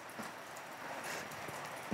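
Steady rain falls around a traditional Korean hanok in Andong, a soft, even hiss of drops with a few slightly louder taps near the end, and no voices.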